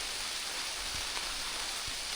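Heavy rain pours down steadily outdoors during a thunderstorm, a dense continuous hiss with no talking.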